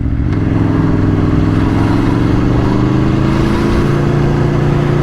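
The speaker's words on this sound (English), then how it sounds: "Good job I came out on a motorbike to get the Christmas cards for this exact reason." A motorbike engine drones steadily, loud and close, with a constant low hum and faint traffic noise around it.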